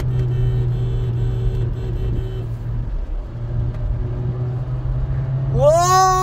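A Volkswagen Taigun GT 1.5 drives on the F4 Street Circuit track. Its engine holds a steady low drone, then climbs in a rising whine near the end as it accelerates through the gears. No voices are heard.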